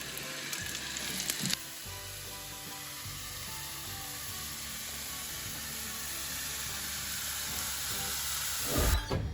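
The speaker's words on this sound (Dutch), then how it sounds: "En dan gaan we hier even die champignonnetjes in bakken." Sliced mushrooms frying in olive oil in a pan over moderate heat, a steady close sizzle and hiss that carries on without talk.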